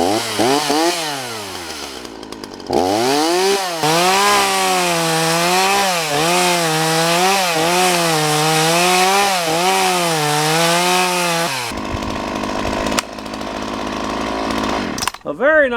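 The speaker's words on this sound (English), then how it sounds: "A very nice 14-inch Ryobi chainsaw, no damaged or broken cases." A Ryobi RY3714 14-inch chainsaw runs loud and near, its engine revving up and down in repeated surges as it cuts, then dropping away before a last short burst.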